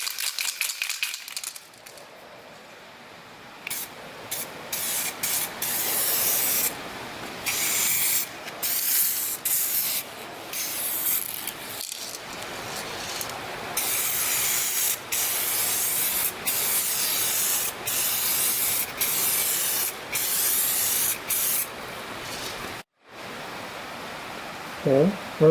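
A spray gun lays clear coat on a Toyota MR2 engine bay with a steady hiss, broken into repeated bursts and short pauses as the trigger is pulled and released.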